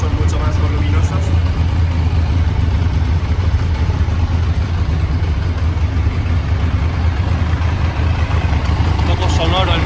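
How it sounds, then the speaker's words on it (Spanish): A 1996 Triumph Daytona 900 Super III sport motorcycle engine runs loud and close, a steady rumbling idle held throughout with no break. "Un poco sonoro el motor, pero bueno, luego en marcha la verdad que tiene un buen sonido"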